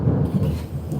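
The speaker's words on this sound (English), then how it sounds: "but it's thundering" A low, deep rumble of thunder rolls during a storm, a steady close murmur lasting about a second with no voices.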